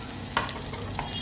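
Green chillies and onions frying in a pan give a steady close sizzle, with a couple of brief stirring scrapes over the hiss.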